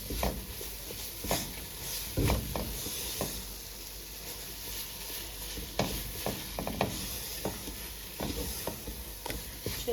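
A spoon stirs sugar into milk in a pan for milk barfi, making soft scraping and swishing strokes in an uneven rhythm under a faint sizzle, close and quiet with no talking.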